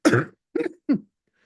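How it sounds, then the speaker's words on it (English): Three quick, harsh, productive coughs in a row, close and loud, followed by silence. "It's a productive cough."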